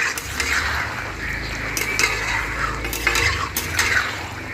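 Mutton curry with potatoes being stirred and sautéed in a pot, with a spoon scraping and clinking against the metal over a low background sizzle.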